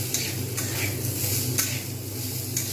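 Spices stir-fried in a pan for Bengali masoor dal with ridge gourd and potato, continuous sizzle with sharp intermittent spatula scrapes and clinks, close and fairly loud.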